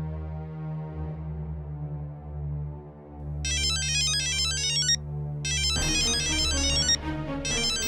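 A phone ringtone plays a repeating electronic melody, with layered high chiming notes over a steady tonal background, fairly loud and close.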